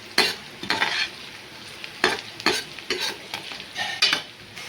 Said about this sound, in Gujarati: ડુંગળી અને લસણ બરાબર તેલમાં સતરાઈ ગયા છે